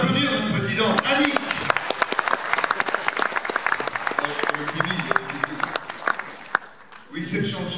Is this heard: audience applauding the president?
yes